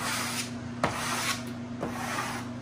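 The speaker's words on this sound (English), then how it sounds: "Go slow when you're smoothing this stuff out." Cork wallpaper is smoothed slowly onto a wall, giving a soft continuous rubbing and rasping with a couple of sharper scrapes, close and fairly quiet under a steady background hum.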